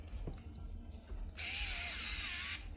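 A power drill whirs briefly as it backs screws out during a motor install in an FJ40 Toyota Land Cruiser model, a short steady high whine after quieter handling noises, with no talk.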